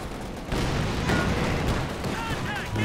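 Tank cannon fire from a Panzer trading shots with an M10 Jackson tank destroyer in Company of Heroes 2, with heavy booming blasts near 0.5 and 1.1 seconds over a continuous rumble of battlefield gunfire.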